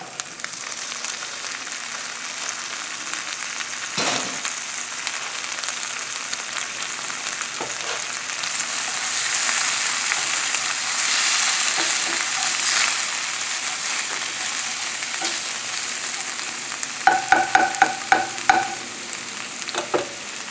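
Olives frying in a little olive oil in a pan, making a steady bright sizzle and crackle throughout, with a few quick utensil clicks near the end and no talk.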